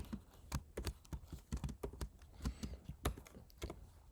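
Code being typed on a computer keyboard, with a steady run of close, crisp key clicks in uneven bursts and no voice over it.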